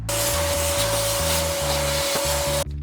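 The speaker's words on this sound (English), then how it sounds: "I think I'm gonna vacuum this actually." A vacuum cleaner runs steadily up close with a loud, constant roar and a whine, cleaning a kitchen part taken out of a Bigfoot camper, then cuts off at the end.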